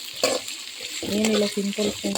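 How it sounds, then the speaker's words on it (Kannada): Chopped onions and green chilies fry in a pan with a soft sizzle, broken up by clattering stirring and scraping strokes, while a voice speaks briefly over it. "ನೋಡಿ, ಇವಾಗ ಈರುಳ್ಳಿ ಚೆನ್ನಾಗಿ ಫ್ರೈ ಆಗ್ತಾಯಿದೆ."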